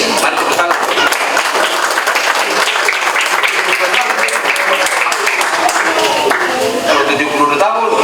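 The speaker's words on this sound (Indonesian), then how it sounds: "Mari tepuk tangan" A church congregation at an anniversary service claps together, dense sustained applause at close range, with voices mixed in through the clapping.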